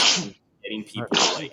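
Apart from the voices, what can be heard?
sneeze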